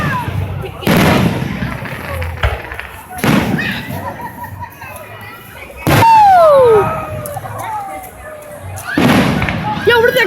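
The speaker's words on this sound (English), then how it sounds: "We're right to the fireworks!" Fireworks burst in loud booming pops, with whistling rockets and crackles between them, under excited shouting voices.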